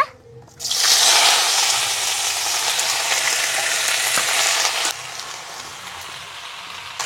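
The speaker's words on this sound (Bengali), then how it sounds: "যে প্রথমে আমি শাক কটা দিয়ে দেব।" Fresh pumpkin leaves hitting a hot pan, a loud, bright sizzle bursting in and holding strong before easing slightly, near and alone without speech.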